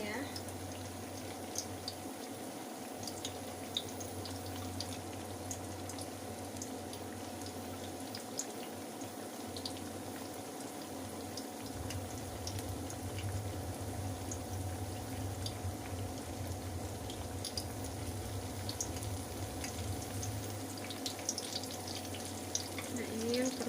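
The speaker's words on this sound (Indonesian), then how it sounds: "goreng sampai kekuningan ya." Corn fritters (bakwan jagung) fry in hot oil, a continuous low bubbling sizzle that holds steady throughout with a hum underneath, while someone talks over it at times.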